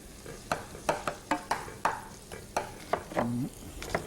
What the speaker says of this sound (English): Larry, I'm going to add the liver to the onions here